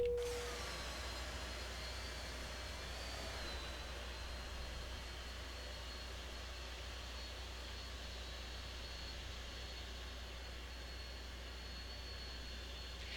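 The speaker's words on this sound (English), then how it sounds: "CRJ-900 seems to be, the engines seem to be louder." Jet engines of a CRJ-900 regional jet in the Prepar3D flight simulator drone as a steady, low, fairly quiet whine with a faint high tone that glides down at the start and then holds.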